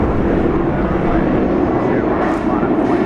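A passenger airliner on Flight 352 from Sydney arrives at Brisbane International Airport at sunset, giving a loud, steady engine roar that holds evenly throughout, close and constant, with speech 0.63 suggesting voices may mix faintly into the noise.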